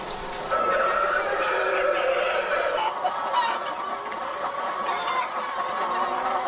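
A dense crowd of caged laying hens on a battery farm clucks and squawks continuously, a close, busy chorus of overlapping calls.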